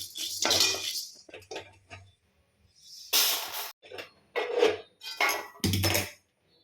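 Roasted chana dal tipped out of a metal pan, producing several short rattling, hissing pours of dry lentils with brief clinks of metal between them.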